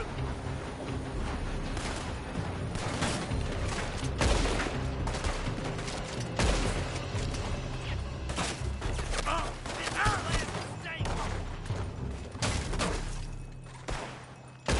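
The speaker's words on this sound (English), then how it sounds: "They're shooting from that building." Gunfire crackles from a building during a shootout in the video game Red Dead Redemption 2, with dense, continuous rifle and pistol shots layered over a rumbling background.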